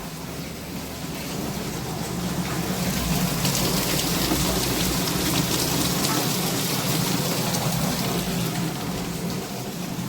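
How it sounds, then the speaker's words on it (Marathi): Heavy monsoon rain pours down steadily outside a home kitchen, a dense, loud, unbroken hiss of drops striking surfaces, with no voices over it. "खूप जोरात पाऊस आला बघा"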